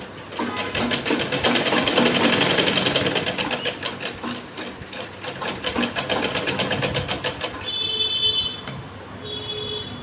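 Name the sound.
sewing machine stitching trouser pocket seam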